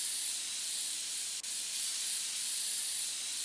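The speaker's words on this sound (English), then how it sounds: "Let's grab our compressed air." Compressed air sprays steadily from a can while dust is cleaned out of a high-end gaming PC in PC Building Simulator: a continuous loud, bright hiss with a very brief break partway through, heard alone.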